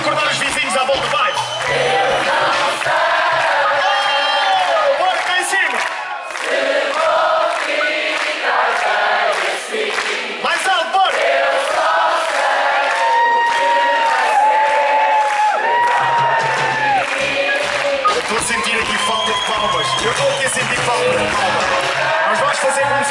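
A concert crowd at an outdoor city festival singing a cappella together, loud and sustained, with sustained melodic singing from many voices, shouts and cheers rising over it throughout.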